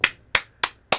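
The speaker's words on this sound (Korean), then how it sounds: "박수 한번 주세요." Four sharp hand claps at an even, unhurried pace during a three-cushion billiards match, close and dry with silence between them and no talk.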